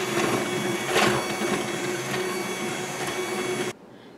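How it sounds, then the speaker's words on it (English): An electric mixer beats milk and pudding mix on low speed for banana cream pie, giving a steady close motor whir with a faint rattle. It runs on evenly and then cuts off abruptly just before the end. "In a mixing bowl, beat the milk and pudding mix on low speed for 2 minutes"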